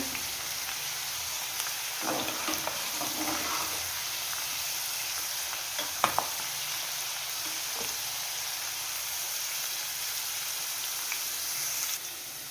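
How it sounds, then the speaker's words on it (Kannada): Garlic and urad dal fry in a pan for a tamarind puliyogare gojju, giving a steady, moderate sizzle throughout with a few faint clinks and taps, and no talking. "ಬೆಳ್ಳುಳ್ಳಿ ಎಲ್ಲ ನೀಟಾಗಿ ಫ್ರೈ ಆಗಬೇಕು, ಹಾಗಾಗಿ ಒಂದು 5 ನಿಮಿಷ ಫ್ರೈ ಮಾಡ್ಕೋಬೇಕು"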